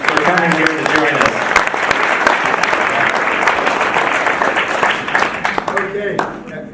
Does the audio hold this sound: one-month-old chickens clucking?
no